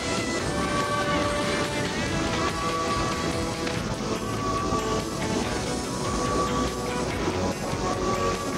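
A monorail train runs steadily and loudly throughout, a dense rolling rumble with faint tonal whines and clattering, no pauses, in an asteroid-themed adventure setting.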